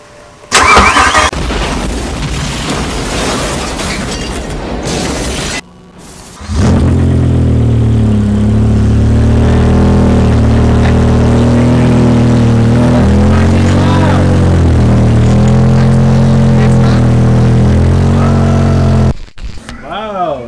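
BMW E60 M5 V10 engine cranking and firing up on a warm start, settling into a loud, deep steady idle with several throttle blips, preceded by some handling noise and a brief pause.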